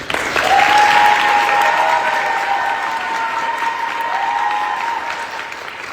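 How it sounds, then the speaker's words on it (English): A crowd applauds the candidates at a student executive speakout, with sustained, full clapping that peaks early and stays strong throughout, and a faint tonal ringing sits underneath. "can everyone give a huge round of applause to all the candidates?"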